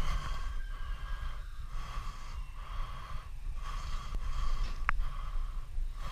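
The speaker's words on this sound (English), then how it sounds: "It's embarrassing how much panting I'm doing." A person pants heavily after climbing onto an abandoned rooftop. The breaths come close and rhythmic over a steady background hum, with no talking.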